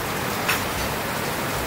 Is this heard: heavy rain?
yes